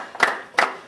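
Two sharp group claps from an audience at a live show, spaced about a third of a second apart in a steady beat, fairly quiet and close with nothing else over them.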